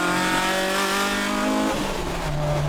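A Toyota AE86 engine with individual throttle bodies screams at high revs near 8,400 rpm, a loud sustained whine that drops in pitch near the end, then climbs again.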